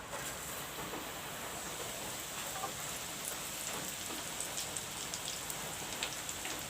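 Flattened rice (chira) fries in a pan with a steady, dense crackling sizzle, even and unbroken throughout, close and fairly soft with no voices.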